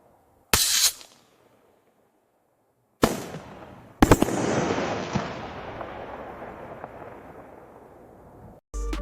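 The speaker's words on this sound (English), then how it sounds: "a silent video of fireworks. And now with the sound generated by ThinkSound" Synthetic fireworks: a few sharp bangs separated by silence, then a louder burst that crackles and fades over several seconds, ending with another abrupt pop.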